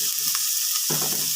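Onions sautéing in a pan for an egg curry, a steady bright sizzle close by with a soft stir or shuffle near the end, no voices.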